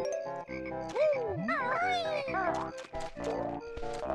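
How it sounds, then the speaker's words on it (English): Cartoonish frog croaks from the swampy Bubblegloop Swamp level of Banjo-Kazooie, a rapid run of pitched, bouncy calls over busy game music, loud and up close with no talking. "There's lots of frogs in there."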